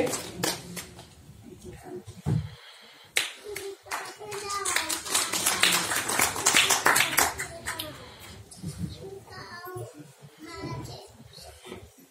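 An audience at a Stop Crime Organization anniversary and award ceremony claps to welcome a guest. The applause swells to a dense, loud patch and then thins out, with voices talking over it.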